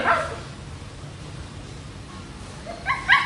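Small white female Pomeranian puppies give high yips near the start and again at the end, short and fairly close, with quiet room noise between.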